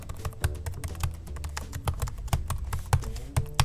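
Rapid typing on a laptop keyboard, a steady stream of light clicky taps with occasional louder key strikes, close and alone without talk.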